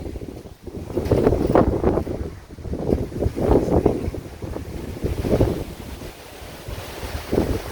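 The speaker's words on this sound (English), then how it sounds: "But you can hear the wind. You can hear the wind rolling," Strong hurricane wind gusts during a Florida hurricane, roaring and buffeting a microphone outdoors in repeated surging waves, loud and close, with no talking.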